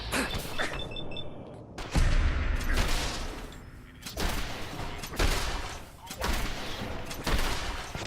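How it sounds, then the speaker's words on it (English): Combat rifle shots in the video game Fallout 4 ring out as a run of spaced, punchy bursts at moderate volume, mixed with clanking game sounds and a voice talking over the fight. "Oh, it's a combat rifle."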